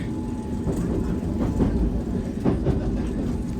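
A London Underground Circle Line train runs steadily toward Hammersmith, its wheels rumbling and clattering along the track in a continuous close roar with faint rhythmic clicks.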